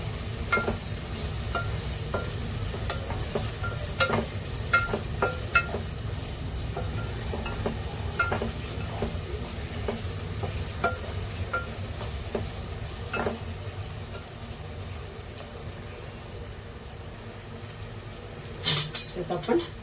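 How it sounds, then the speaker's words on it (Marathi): Soft onions cooking in a pan for an Agri-style non-veg dish, a steady close sizzle with repeated scraping stirs throughout and a brief clatter near the end. "मस्त असं मऊ कांदा शिजवून घ्या."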